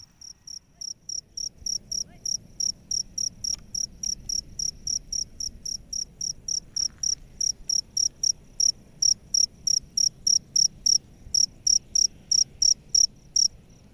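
Field crickets of the jangkrik kalung type chirp in a rapid regular series of bright pulses, loud and close, continuing throughout over a quiet outdoor background with no talk.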